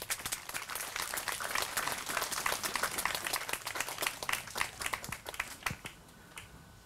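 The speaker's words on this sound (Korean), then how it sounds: "박수로 맞아주시기 바랍니다" An audience at a Catholic shrine symposium claps to welcome a priest to the front, a steady, fairly soft patter of many hands that thins toward the end into a few distinct claps.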